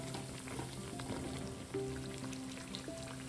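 Sabudana vada, a fried fasting snack, bubbling and sizzling steadily in hot oil as it fries on its second side, a faint continuous crackle with no talking.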